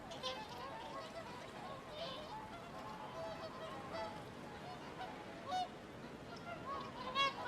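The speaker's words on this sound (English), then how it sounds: "Here on a loch in Scotland, we can watch some of the most majestic flyers around today. Whooper swans." Whooper swans on a Scottish loch give faint, distant honking calls over a steady outdoor hiss, with one or two clearer honks near the end.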